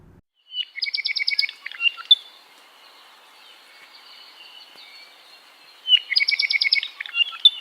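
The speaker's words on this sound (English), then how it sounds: "Manu heard whirring wings and whispered. Apapane. Their bubbly song filled the forest." Apapane birds sing in a Hawaiian forest: two bursts of bubbly, rapid trilling chirps, clear and fairly close, with a faint thin buzzy tone carrying between them and no voices.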